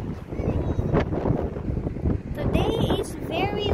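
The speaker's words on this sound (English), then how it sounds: "Today is very windy." Gusty wind buffets the microphone with a loud, rough roar, mixed with a rumbling engine and brief high squeaks, in Doha, Qatar.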